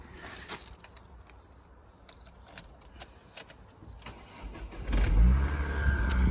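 Twin-turbo V8 engine swapped into a Ford Focus project car cranks and fires up, a brief start catching and rising into a louder, steady idle near the end.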